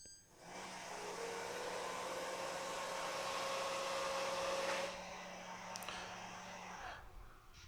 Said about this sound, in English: it turns off the actual vacuum itself and just goes back to charge